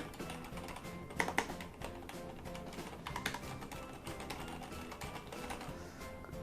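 Continuous rapid typing on a DURGOD Fusion mechanical keyboard, clicky keystrokes at an even pace, fairly quiet and close, with faint music-like tones underneath.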